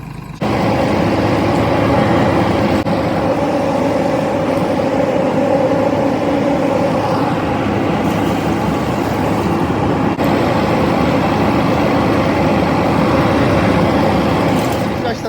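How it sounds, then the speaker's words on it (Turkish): Crop sprayer engine running with its tank mixer on while preparing a vineyard spray, a loud, steady diesel drone with a constant churning rumble that holds unbroken for the whole stretch. "Motorun sesinden uzaklaşalım biraz. Karıştırıcı açık çünkü."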